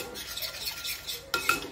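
Yogurt marinade for peri peri roast chicken is stirred in a bowl, with soft swishing and scraping that ends in a couple of sharper clinks of a spoon against the bowl.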